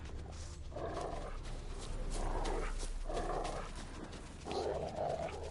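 Hussar the dog barks in The Witcher 3, a series of four deep, rough barks spaced roughly a second apart over a busy game background.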